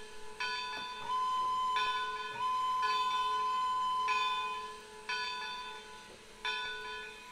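Slow, evenly spaced tolls of a church bell ring out in Trainz 2022's Mantiqueira Mountains route, five or six clear strikes each lingering with a sustained ringing tone against a soft background drone.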